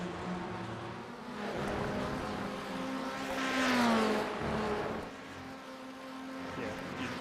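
A Formula 1600 race car in a racing video game at Brands Hatch Indy, engine droning with rising and falling revs, a shifting whine building to a louder peak midway before easing off.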